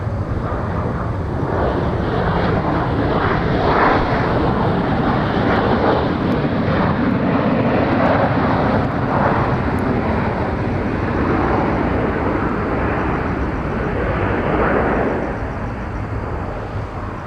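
A Korean Air plane in SkyTeam livery at Incheon airport rumbles with a loud, sustained jet engine roar that stays steady before easing slightly toward the end.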